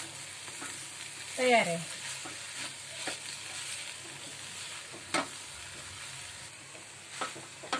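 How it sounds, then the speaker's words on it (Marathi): Drumstick leaves sautéing in a little oil in a pan, a soft steady sizzle broken by scraping stirs and spatula knocks, with a brief spoken remark. "परतून घेणार आहे मी"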